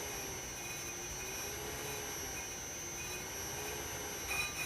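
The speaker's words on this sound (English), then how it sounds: "Now I loosen up the front and go ahead and feed it in until I see it making continuous contact as well." Brake lathe cutting a car's front brake rotor, a steady high metallic whine with thin sustained tones over a constant grinding hiss, continuous and close, with no talking.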